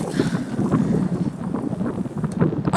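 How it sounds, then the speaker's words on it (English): Strong wind buffets the microphone at the south end of the Utica Reservoir, a continuous loud roaring rumble with gusty fluctuations and no clear talk. "look how windy it is"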